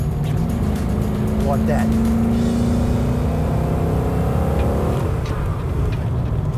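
A VT Holden Commodore V8 automatic accelerating, its engine drone rising steadily in pitch through the gears over a loud constant road roar, with someone talking over it.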